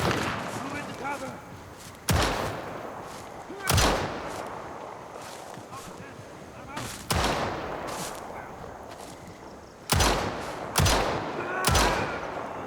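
Rifle shots in the video game Lost Rift ring out as sharp, loud cracks, about seven shots spaced irregularly over several seconds, each with a short booming tail over a low ambient background.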